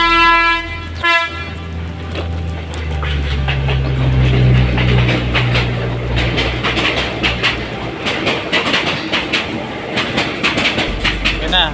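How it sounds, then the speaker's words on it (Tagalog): A train passes nearby in an urban neighborhood, opening with a loud horn toot followed by a sustained rumble and rhythmic clatter of wagons over the rails, with voices talking in the background. "Dito lang may train."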